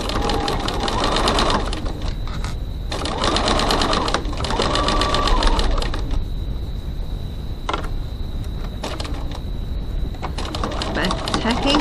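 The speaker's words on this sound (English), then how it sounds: "going to stitch here 1 centimetre 3/8 of an inch from the side up to my line" A sewing machine stitching fabric for a crossbody bag, running in several loud buzzing bursts separated by short pauses, close by, with a person talking between runs.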